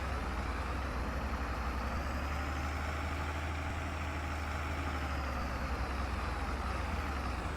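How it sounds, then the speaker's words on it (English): A tractor engine in Farming Simulator 22 drones steadily under load, a low, constant rumble with a continuous, even roar and no speech. "This tractor struggles a little bit."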